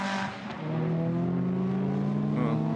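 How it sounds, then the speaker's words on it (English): A Lamborghini GT race car's engine wails past at Misano circuit during a Blancpain GT Sports Club race, a sustained high, tonal whine holding steady at close range. "then the Lamborghinis come past with another wail entirely"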